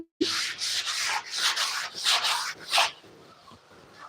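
Someone hand-sands dried wall putty with quick back-and-forth strokes, about eight rough scraping rubs in a steady rhythm, close and alone before fading to quiet.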